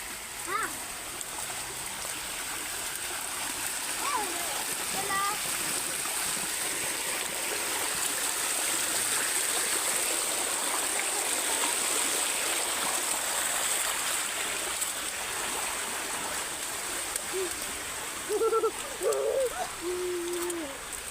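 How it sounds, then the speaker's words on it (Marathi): A village stream gurgles and splashes steadily for a long stretch, with occasional bird calls and brief voices over the water. "इथे पण एक खळखळणारा पर्याय आहे."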